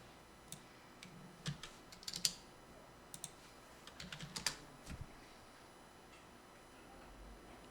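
A formula is typed on a computer keyboard in a spreadsheet, with quiet scattered keystrokes in short irregular bursts against a faint room hum.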